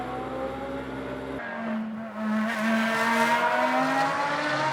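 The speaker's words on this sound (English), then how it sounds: "The Reiter Engineering Lamborghini out there on track." A Reiter Engineering Lamborghini race car circulates on track during free practice at a Moscow circuit, its engine note loud and steady with rising pitch through the run, a brief quieter gap partway before the roar returns.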